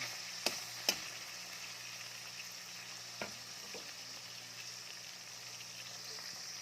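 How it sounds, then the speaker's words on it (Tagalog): Chayote being sautéed with ground meat in a pan gives a steady low sizzle with a few sharp utensil clicks near the start and one later, no talking. "Nagigisa ako ng sayote guys."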